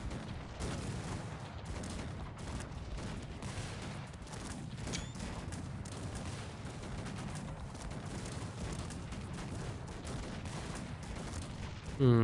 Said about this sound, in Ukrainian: Тут битва на гарматах ще така йде.